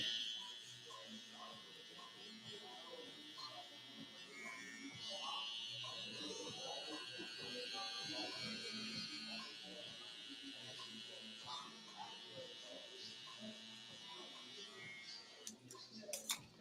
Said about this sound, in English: Now we're going to use our trimmer. Shave down the bottom.